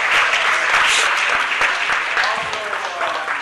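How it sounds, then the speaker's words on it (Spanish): A council chamber audience applauds steadily during a city meeting, a dense wash of many hands clapping at fairly even loudness for the full stretch, with no voices standing out. "Por favor, le demos una aplauso"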